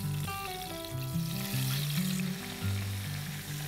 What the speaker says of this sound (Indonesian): Minyaknya sudah panas, jadi kita masukkan dalam gorengan.